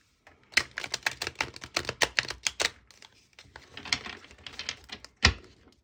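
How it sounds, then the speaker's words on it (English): Tarot cards shuffled by hand in a quick series of crisp, riffling flutters and slaps, close and fairly loud with short pauses between bursts and no talking. "So we're gonna start by shuffling the deck."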